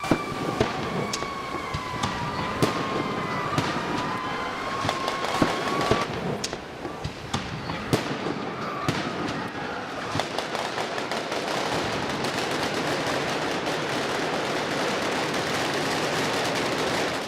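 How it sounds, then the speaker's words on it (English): Fake gunfire and explosions for a Transformers 3 action scene filmed at night near the U.S. Capitol in Washington: dense, rapid cracks and bangs throughout, with a wavering siren early on. "It's an action scene full of fake gunfire and explosions being filmed for the new movie Transformers 3"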